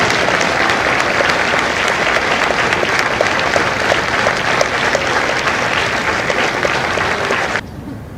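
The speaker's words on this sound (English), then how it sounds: "Ladies and gentlemen, a round of applause for their dedicated service to corps and country." A crowd at a Marine Corps recruit graduation ceremony in San Diego applauds Marine veterans with loud, dense, sustained clapping that holds steady before cutting off abruptly near the end.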